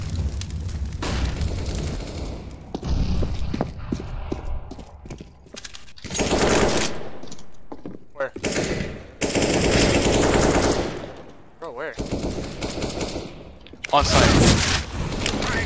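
Rapid gunfire bursts and bomb-site shooting in a tactical shooter match, loud repeated volleys with heavy booms in several clusters, while a player briefly speaks over the action.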